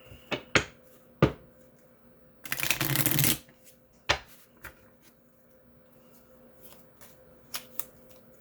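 A deck of oracle cards is shuffled, giving a dense burst of riffling flutter in the middle, set among sharp taps and snaps of cards being handled in a quiet room.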